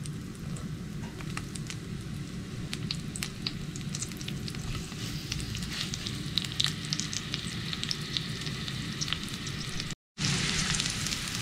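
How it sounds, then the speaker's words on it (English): Onions frying in a pan, a steady close sizzle with crackles and faint scraping throughout, then a brief dropout before the sizzle returns just as loud, with no talking. "throw some onions in there"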